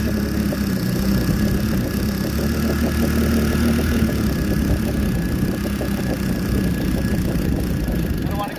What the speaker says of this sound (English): Full power until we break the engine in.